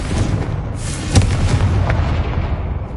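Confringo, the explosive fire spell in the game Hogwarts Legacy, booms out in a loud, sustained blast. A sharp crack near the middle sits inside a rumbling roar that slowly fades over three seconds.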